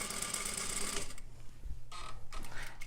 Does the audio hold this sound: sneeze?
no